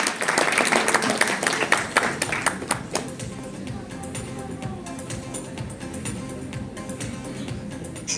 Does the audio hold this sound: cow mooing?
no